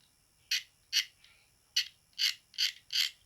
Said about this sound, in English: It's where the knife is slipping into the actual layers where the filament's been printed.